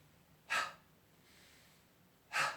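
Two sharp, forceful exhales through the mouth during a Pilates leg-circle exercise, close to the mic and about two seconds apart, with faint breathing between them.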